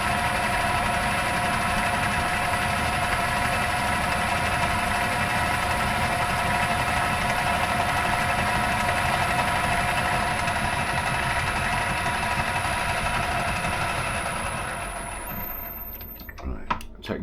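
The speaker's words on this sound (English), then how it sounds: "take gearbox out just to show you my lathe ain't knackered. That's without the gearbox in. It's noisy" Metal lathe running with its gearbox removed, a steady mechanical drone with a high tonal whine throughout, then spinning down and going quiet near the end.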